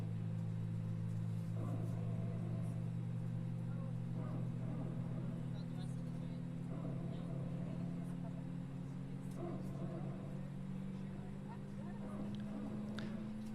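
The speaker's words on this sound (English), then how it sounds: "People say it sounds like a dog barking, or it sounds like somebody's taking a drill and just like driving it into the side of the plane." Hydraulic power unit of a Frontier Airbus A320neo in Microsoft Flight Simulator barks in a gritty, drill-like buzz over a steady low engine drone, with intermittent pulses recurring every couple of seconds throughout.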